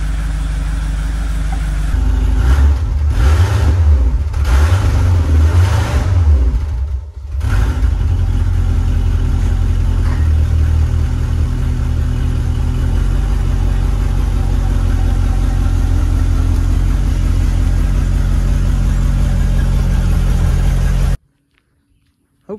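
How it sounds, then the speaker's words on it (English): A 1976 Cadillac Eldorado engine runs with an exhaust full of holes, giving a loud, close, continuous rumble. It surges unevenly early on, dips briefly, then settles into a steady idle-like drone before cutting off abruptly. "the exhaust underneath the car has a bunch of holes in it, but really vastly improved"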